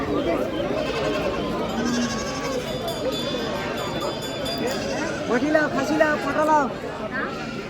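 Sheep bleat repeatedly, several calls overlapping nearby, amid people talking at a busy outdoor livestock market in Bardhaman district, West Bengal.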